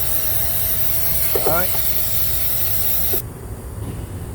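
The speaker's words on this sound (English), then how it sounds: "let's get some brake cleaner and what's not and spray the module down" Brake cleaner sprays with a steady aerosol hiss onto a 2014 Chevrolet Equinox ABS module area for about three seconds, then cuts off abruptly, leaving a quieter background.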